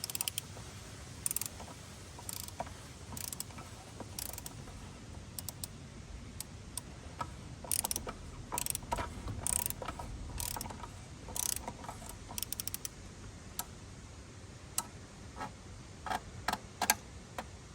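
A torque wrench clicks at its 18 foot-pound setting during a Jeep Wrangler JK oil change, sharp mechanical clicks and ratcheting bursts repeating irregularly over a low background rumble.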